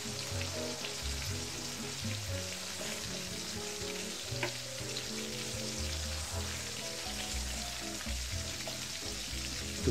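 Tomatoes and raisins added to a Bangladeshi-style katla kalia fish curry fry with a steady, dense sizzle and crackle in hot oil, close and continuous throughout, with occasional stirring and no talking.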